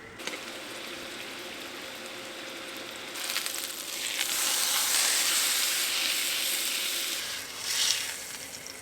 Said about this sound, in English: So before this goes into the crock pot, I gotta sear it on the frying pan.